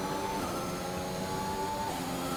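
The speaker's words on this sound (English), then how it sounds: "you can hear the cars, there's all sorts going on down there" Racing cars in the F1 2021 video game at the Bahrain Grand Prix, a steady wash of engine drone and whine from the field, continuous and fairly faint throughout with no talk.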